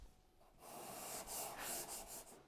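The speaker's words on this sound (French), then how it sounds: "Sablage, comme vous avez vu," Sandpaper of 180 grit rubs across cured Evercoat body filler, a soft, fast scratchy whoosh that starts after a short pause and pulses in quick back-and-forth strokes, close and fairly quiet.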